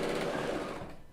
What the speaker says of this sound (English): On this one, you activate the air threading by pressing on your foot pedal